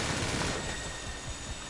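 A helicopter gunner in GTA Online fires a short, steady burst of rapid machine-gun shots, loud and sustained with no pause.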